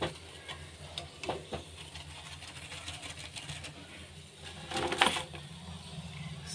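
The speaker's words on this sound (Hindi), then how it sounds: "स्टफ ब्रेड पॉकेट्स जो कि मैं फ्राई कर रही हूँ मज़ेदार सी" Stuffed bread pockets frying in hot oil give a soft, steady crackle throughout, with a brief louder burst of sizzling near the end; no one speaks.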